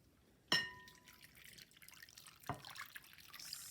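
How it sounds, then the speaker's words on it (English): Warm water poured into a bowl holding sugar and yeast while making pizza dough, a sharp clink followed by light splashing and trickling, quiet and close, with no talking. "And then we're going to add our warm water."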